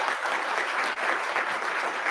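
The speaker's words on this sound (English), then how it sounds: "So I'll give a round of applause to our debaters, please." Audience applause for two debaters at a live debate event, a dense, steady clatter of many hands clapping without pause, loud and filling the room.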